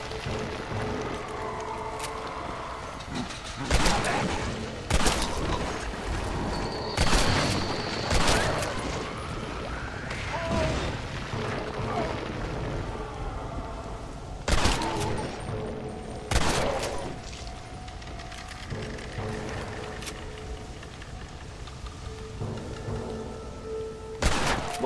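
Gunfire in Red Dead Redemption: Undead Nightmare, with repeated bursts of shots and booms spread across a busy scene, some close and sharp, others duller, over a constant rumbling background.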